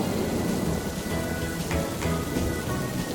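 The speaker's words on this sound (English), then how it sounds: "It's raining, and Peppa spots her rainbow umbrella." Cartoon rain falls as a dense steady hiss with low rumbles of thunder swelling underneath, continuous and fairly loud, with no voices.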